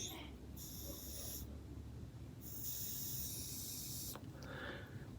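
Air drawn through a Uwell Whirl S vape in mouth-to-lung style: a few separate soft hissing draws, each a second or so long with short pauses between, close and quiet.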